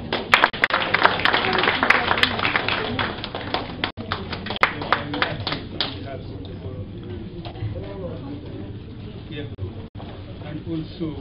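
At a New York Math Academy end-of-year celebration, an audience at an award ceremony claps for several seconds, loud at first and then thinning to scattered taps, with talking underneath.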